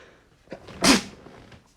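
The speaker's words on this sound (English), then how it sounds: "that was a weird sneeze." One sharp, loud sneeze bursts out close to the microphone amid near silence.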